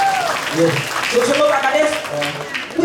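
An audience at a Balinese gong nong nong kling drama performance at the Bali Arts Festival claps in a scattered burst, heard under lively speech from a performer.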